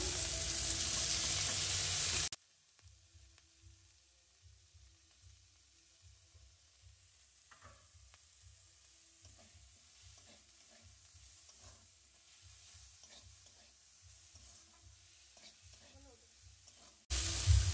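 Capsicum frying in oil in a pan, a soft, steady sizzle close by with intermittent stirring scrapes, fairly quiet, bracketed by louder bursts at the start and end.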